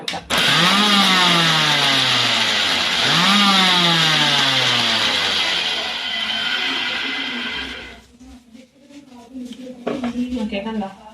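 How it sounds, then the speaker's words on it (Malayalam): A mixer grinder crushes chopped ginger and garlic in two rising motor whirs, each spinning up and running loud and steady, then it cuts off near the end, leaving quiet clinks. "നമ്മൾ മിക്സിക്കകത്തിട്ടൊന്ന് അടിച്ചെടുക്കുവേ ചതച്ചെടുക്കണം"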